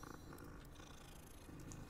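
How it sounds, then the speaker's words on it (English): A cat purrs softly while being petted in the Hogwarts Legacy video game, a faint steady rumble with rain-like ambience and no talking. "I see a cat. And if there's a cat, I'm gonna need to pet it."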